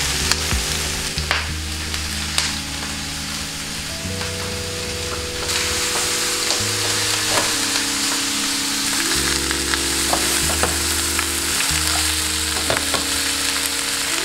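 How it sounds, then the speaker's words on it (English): Brussels sprouts sautéing in a pan over medium-high heat, a loud steady sizzle with clinks and stirring scrapes, joined by a sustained tonal hum in the background. "So now we're going to saute our Brussels sprouts here."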